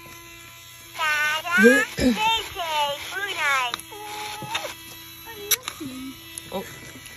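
A small motor inside a Furby toy buzzes and whirs in short bursts against a low background hum, the sound rising and stopping repeatedly while a person talks close by.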